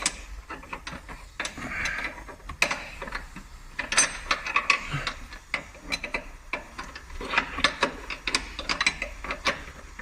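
Ratcheting spanner working on a Ford Focus, a rapid run of small metallic clicks and ticks in uneven bursts, close and moderately quiet with no talk.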